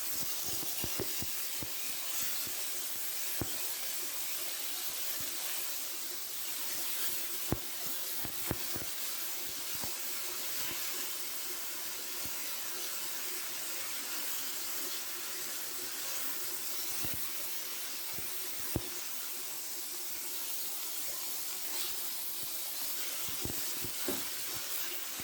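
Ground beef sizzles steadily in a skillet for a taco dish, a constant bright frying hiss with scattered pops and crackles throughout, close and alone without voices.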